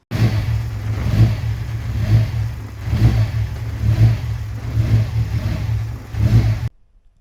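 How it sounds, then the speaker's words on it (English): A Subaru EZ30 engine in a Legacy GT rally car runs steadily for several seconds, a loud, close mechanical drone with a rhythmic pulse in its tone, then cuts off abruptly. "A very short video there of the engine running."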